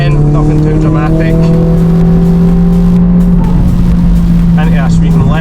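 A Mercedes-AMG A45 S pulls past another vehicle on a Scottish road, its engine a loud, steady droning growl with heavy road and wind roar, and a voice is briefly audible under it.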